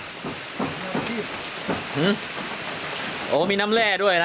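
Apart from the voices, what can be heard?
rain falling while grilling pork ribs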